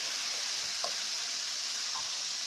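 Beef chilli stir fry with oyster sauce gets a quick stir in a hot pan, a soft steady sizzle with two faint scrapes of the utensil, fairly quiet and without voices.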